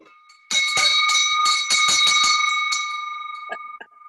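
An old family bell rings with a bright, sustained metallic tone and a run of quick repeated strikes that slowly fade, close and alone, without talking.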